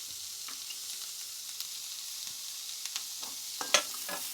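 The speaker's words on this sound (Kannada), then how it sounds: "ಎಲ್ಲನೂ ಒಂದ್ಸಲ ಚೆನ್ನಾಗಿ ಫ್ರೈ ಆಗಲಿ ಫ್ರೆಂಡ್ಸ್" Curry leaves and garlic frying in hot oil for a ridge gourd peel chutney, a steady soft sizzle with faint crackles and a few sharp pops near the end, no voices.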